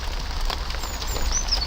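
Heavy rain falls at an allotment as a steady, dense hiss of drops that continues without a break.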